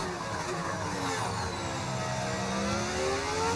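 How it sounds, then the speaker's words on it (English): A Formula 1 car engine in the F1 25 racing game whines and revs through rising gear sweeps, loud and continuous, with no voices. "So, with that, came a new engine sound."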